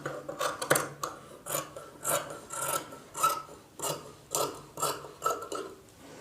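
Scissors snip through blouse fabric in a steady run of repeated rasping cuts, close and clear with no talking.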